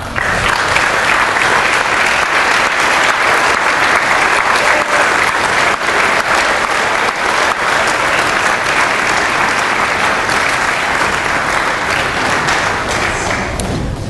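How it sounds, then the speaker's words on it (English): At a college athletics awards ceremony, a standing audience applauds all-conference selections with loud, continuous clapping that carries on steadily for a long stretch without talk. "please rise for a round of applause."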